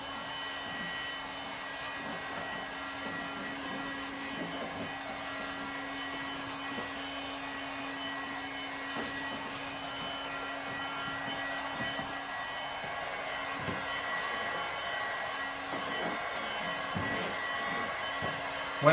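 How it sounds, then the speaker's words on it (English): A heat gun blows steadily while heating the edges of vinyl wrap on a car hood, giving a constant whirring hum of even loudness throughout with no talking. "So we're going to go over every edge with the heat gun."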